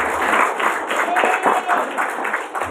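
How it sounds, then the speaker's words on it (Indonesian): Children in a Ramadan religious gathering clap together in a dense, steady burst of applause, with a voice talking over it throughout. "tepuk tangan untuk kita semuanya"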